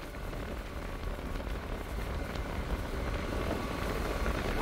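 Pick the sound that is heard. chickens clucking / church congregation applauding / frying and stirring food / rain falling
rain falling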